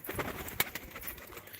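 Faint pigeon cooing and rustling, with a few sharp flutters, outdoors and with no talking.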